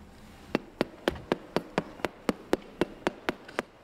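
A cheese wheel is tapped repeatedly to test it, giving about fourteen sharp, evenly spaced knocks at a steady brisk rhythm, close and clear over faint background noise.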